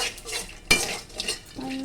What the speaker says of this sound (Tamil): கடுகு போட்டுக்கலாம். நல்லா ஃப்ரை பண்ணிக்கணும்.